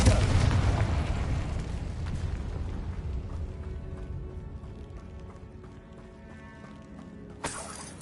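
A Confringo blast spell in Hogwarts Legacy goes off with a loud, booming burst at the very start, then a long rumbling decay fills the rest of the stretch, with a brief sharp crack near the end.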